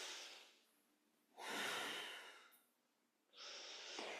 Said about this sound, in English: always synchronizing with a powerful or a deep breath